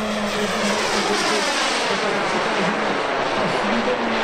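RC model airplane flying fast at a model show in Holešov, its engine a loud, steady, continuous drone that holds throughout with a slight wavering pitch.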